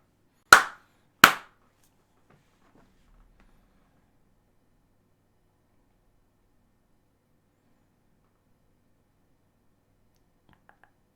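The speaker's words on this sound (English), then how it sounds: "I'm going to just give a quick little clap" Two sharp, quick hand claps ring out close together, followed by long near-silence.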